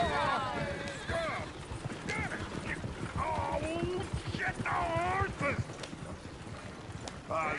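Horse hooves clip-clop at a steady walking pace in the video game Red Dead Redemption 2 while people talk over them, with faint creaking of a moving coach mixed in.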